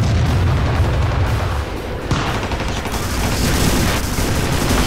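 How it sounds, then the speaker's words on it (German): Dense, continuous gunfire and booming blasts from the Brutal Doom video game, loud and sustained with overlapping rapid shots and explosions throughout, no voices over it. "Schieß doch nicht euch gegenseitig ab"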